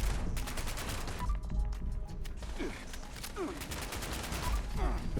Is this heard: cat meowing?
no